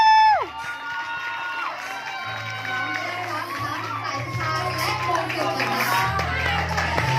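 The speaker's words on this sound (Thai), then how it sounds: "ขอเสียงปรบมือดังๆอีกครั้ง" A large crowd at a beauty pageant in Thailand cheers and applauds loudly throughout, with shouts and whoops rising over continuous clapping and a booming announcer's voice.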